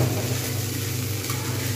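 Sabudana pulao being stirred in a pot gives a short burst of soft sizzling and scraping, close and steady.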